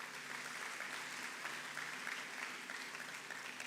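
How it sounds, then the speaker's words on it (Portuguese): A church congregation applauding during a Portuguese sermon, with steady, dense clapping that holds evenly throughout at a moderate, somewhat distant level. "Aplauda a palavra do Senhor"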